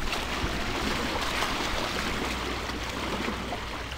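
Wake waves from a big boat that has just passed lap and wash against the shore in a steady, continuous splashing hiss, close by and fairly loud, with no voices over it.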